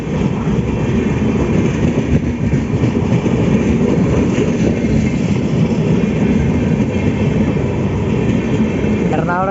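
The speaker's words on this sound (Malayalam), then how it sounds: "ഒരു ലാലാഗുഡ P7 ആയിട്ടാണ് നമ്മുടെ മംഗള ലക്ഷദ്വീപ് പോകുന്നത്." Mangala Lakshadweep Express hauled by a Lallaguda-shed WAP7 electric locomotive, a loud steady rumble of the train running past close by, with faint voices in the background.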